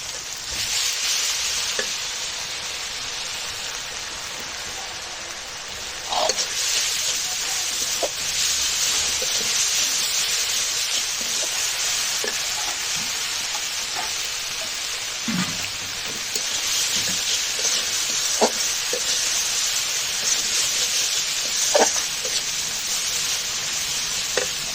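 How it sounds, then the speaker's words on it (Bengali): Ginger garlic paste with ground coriander, cumin, turmeric and chili powder sautéing over fried onions in a pan, a loud continuous sizzle broken by occasional scrape and stir clicks. "এই মশলা কিন্তু খুব সুন্দরভাবে কষায় নিচে।"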